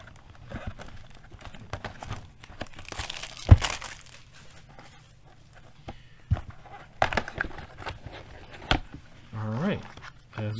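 The wrapper of a Kayou Detective Conan card pack is torn and crinkled open up close, giving scattered crackles and rustles with a few sharper rips, while a person talks intermittently.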